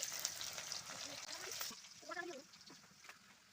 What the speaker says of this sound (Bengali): এখানটায় পেঁয়াজটা দিয়ে একটু নাড়াচাড়া করে নিচ্ছি